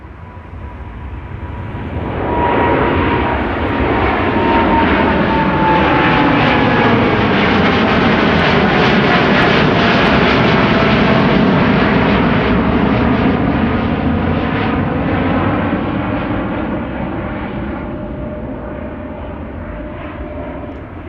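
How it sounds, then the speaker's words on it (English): KLM airliner on its takeoff roll and climb-out at Amsterdam Schiphol Airport, departing for Bogota: a loud roaring jet engine swells in over a couple of seconds, holds a powerful rumbling roar, then slowly fades as it departs. "First airplane to take off, KLM flight 749 to Bogota in Colombia."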